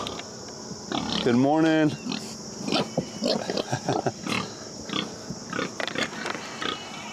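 Pigs on a small farm give a loud, drawn-out squeal at feeding time, then a run of short grunts and snorts, while a person speaks a brief greeting nearby.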